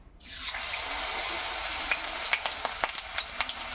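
Banana-stem fritters (bora) dropped one by one into hot oil give a loud, steady hiss of frying, with crackles and pops growing more frequent toward the end.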